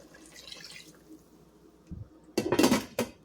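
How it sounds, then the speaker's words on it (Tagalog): Water pours into a pot of pork belly humba cooking with bay leaves and star anise, a short splashing burst with a clink of the pot near the end, close up and alone. "I-add nato ang water nga 1 and 1/2 cup."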